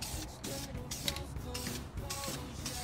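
Aerosol spray paint laid on as a light coat during a 1963 Mercury Monterey rebuild, a steady broadband hiss running continuously with slight pulsing as the can sweeps, close and moderately loud, no talking.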